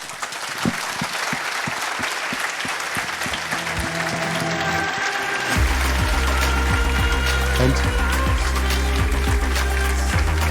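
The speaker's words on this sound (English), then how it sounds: "Big applause again, please." A conference audience gives sustained applause after a closing keynote at IPC 2019, dense clapping filling the hall, joined partway through by a loud low rhythmic backing track.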